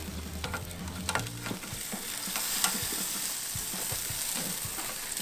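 A spatchcock chicken flipped over on a Big Green Egg grill sizzles steadily and close, with a few clunks and scrapes from handling at the start, then an even, crackling fry with no talk.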